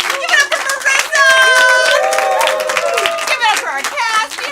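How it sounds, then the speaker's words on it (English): Audience clapping and cheering for a cast member after a live stage show, a steady burst of close, loud applause with shouts and voices mixed in throughout. "Give yourselves a round of applause. Give it up for Marissa"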